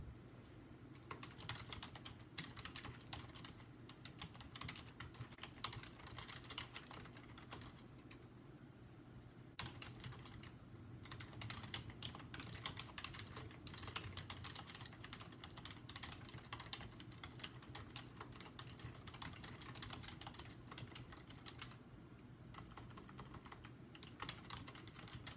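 Steady computer-keyboard typing by someone with long decorated nails, continuous fast key clicks over a low room hum, close and moderately loud with brief pauses.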